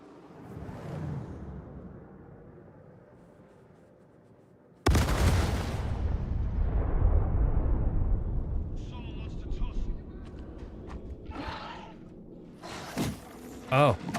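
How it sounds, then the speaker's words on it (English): A bomb dropped from a passing ship explodes against the side of a building in Star Citizen, a sudden loud blast followed by a long rumbling roar that slowly decays, with scattered debris and clatter toward the end. "Someone just dropped a bomb towards me."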